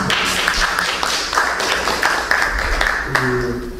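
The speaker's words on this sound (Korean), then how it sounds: "박수 한번." Scattered clapping from a small audience at a small chamber music concert, uneven and moderately close, with a few louder claps standing out and a brief tone near the end.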